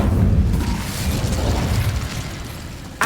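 Incendio fire spell cast in Hogwarts Legacy, a heavy whooshing burst of flame that rumbles and fades over a few seconds, ending with a sharp crack.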